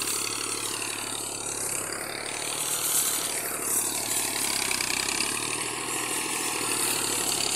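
A Massey tractor engine runs at idle, a continuous low mechanical rumble with a steady ratcheting clatter, moderately loud and unbroken throughout.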